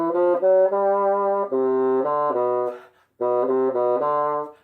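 Bassoon playing a solo melody of sustained long notes, with a clear break for a breath near the middle before the phrase resumes, close and alone.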